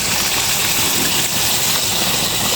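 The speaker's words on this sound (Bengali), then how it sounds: "এখন আমি গরম জলটা দিয়ে দিচ্ছি" Hot water pours steadily into a pot of chicken curry cooked with ground spice paste, a dense continuous gushing rush that stays loud and even throughout with no voice over it.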